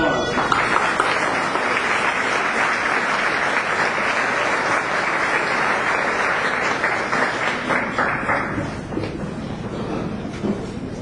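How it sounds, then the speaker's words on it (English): An audience at a peace essay contest event in Modesto, California breaks into loud, dense applause that holds steady for several seconds and then thins out toward the end. "Another round of applause."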